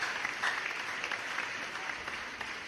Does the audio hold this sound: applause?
yes